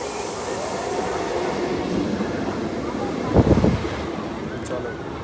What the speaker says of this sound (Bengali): এখন ট্রেনটা আসছে এই যে